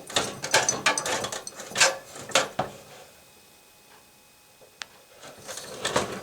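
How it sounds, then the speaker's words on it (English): A part is screwed back onto a Mr. Heater Buddy portable heater, giving quiet, close ratcheting clicks in short bursts, then a pause with one sharp tick, then more clicking at the end. "I'm going to screw this back on."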